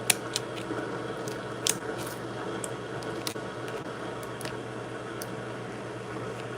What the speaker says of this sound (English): I'm going to be lazy and use my scissors.